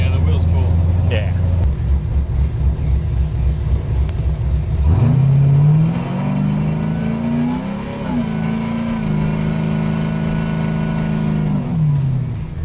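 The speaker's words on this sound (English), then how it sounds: "I just put my foot gently on the accelerator and it took off." A 1971 Chevrolet Camaro resto mod engine rumbles steadily, then pulls away with a rising, accelerating note that settles into a sustained drone, close and loud inside the car.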